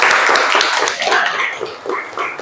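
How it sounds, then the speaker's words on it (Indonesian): Classroom applause for a student group after their concept-map presentation, a dense patter of many hands clapping close by for a couple of seconds, with no clear voices. "Kita kasih aplaus untuk kelompok 1."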